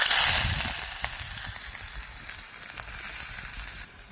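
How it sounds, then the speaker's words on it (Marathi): Finely chopped onion hitting hot oil in a pot over a wood-fired stove for mutton keema, a close hissing sizzle that starts loud and gradually softens, with faint crackles and no voices. "तेल गरम झालंय, बारीक चिरलेला कांदा,"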